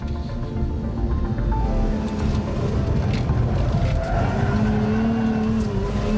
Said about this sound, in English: You have to go into the corner way too fast, begin to have an accident, and then drift on the way out.